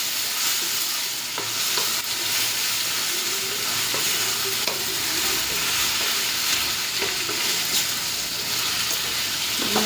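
Ivy gourd (dondakai) fries in oil in a pan, a steady close crackling sizzle throughout with occasional light scrapes and taps from stirring.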